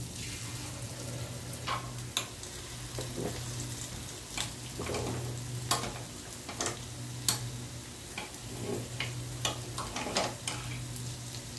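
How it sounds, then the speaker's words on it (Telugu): Unniyappam sweet dumplings frying in hot oil, giving a steady soft sizzle with a low hum underneath, broken by occasional sharp ticks and taps as they are turned in the pan, close and without speech. "ఈ విధంగా టర్న్ చేసుకుని రెండు వైపులా ఫ్రై చేసుకోవాలి."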